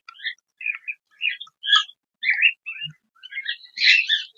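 A hand-fed cockatiel chick begs for food with a string of short, raspy chirps and squeaks in quick uneven bursts, close by and fairly loud, with silence between calls.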